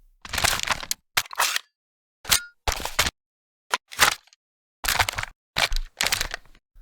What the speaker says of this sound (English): it sounds like an AR-15 being handled and reloaded and stuff